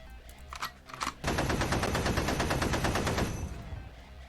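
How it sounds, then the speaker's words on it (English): A sound effect of many heavy machine guns firing at once during a Lancer tabletop RPG session opens with a few scattered shots, then becomes a dense, loud, sustained roar of rapid gunfire that tapers off near the end. "As an untold number of heavy machine guns go off at once."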